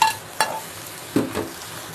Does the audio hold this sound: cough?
no